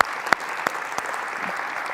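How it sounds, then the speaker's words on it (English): Audience applause at a lecture event, heard as a soft, steady wash of clapping with a few sharper individual claps over it. "just a round of applause for the extraordinary family."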